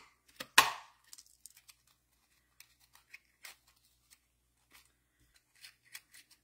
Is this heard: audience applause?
no